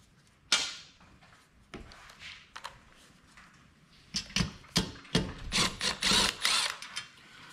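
A 10 mm socket wrench loosening exhaust screws on a 168F small diesel engine: close metallic clanks, then a series of quick ratcheting clicks and scraping turns growing busier toward the end.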